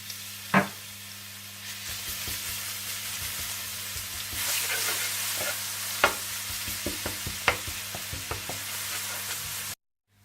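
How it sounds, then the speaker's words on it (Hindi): Crushed garlic fries in hot oil after chicken has been deep-fried, a steady close sizzle with occasional louder pops and spoon scrapes and stirring clinks, stopping abruptly near the end. "और इसमें आप पिसा हुआ लहसुन डालकर थोड़ा सा भून लें।"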